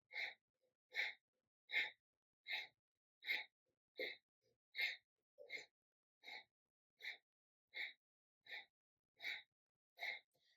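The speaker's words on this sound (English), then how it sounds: "Let go of the breath of fire" Fourteen forceful, evenly spaced breaths of yoga breath of fire, each a short, sharp burst with silence between, close and alone.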